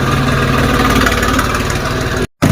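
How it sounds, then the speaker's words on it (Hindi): A tractor engine idles and chugs close by with a steady, heavy low rumble and vibration, and a brief dropout near the end. "तो गाइस ट्रैक्टर घर से निकाल दिया है"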